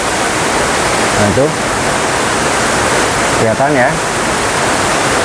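Tiered waterfall at Curug Paniis Sumur in Pandeglang, a loud, constant broadband roar of falling water filling the scene, with someone speaking briefly over it twice.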